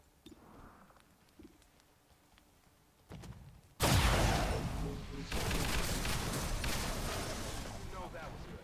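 Gunfire in XCOM 2 War of the Chosen: quiet game sounds and faint voices, then a sudden loud burst of shots and rumbling blasts that carries on heavily to the end.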